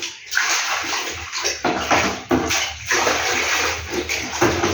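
Water is scooped and poured for washing, with repeated splashing pours and sloshes coming close and loud in quick irregular bursts.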